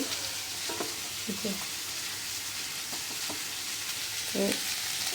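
Onions for piaz posto sizzle steadily in a pan, a close even hiss with occasional quiet stirring clicks scattered through it.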